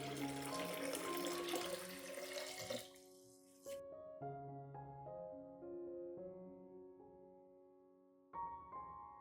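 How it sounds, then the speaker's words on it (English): Clean water poured into a diluted onion solution for soaking orchid roots: a few seconds of steady splashing pour over soft background music, then the pour stops and only the music continues. "I'll dilute this solution with 500 milliliters of clean water"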